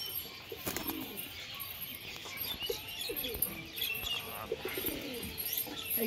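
Flying pigeons kept at a loft coo softly in short, low, rolling phrases amid steady outdoor background noise, with occasional faint wing flaps and no talk.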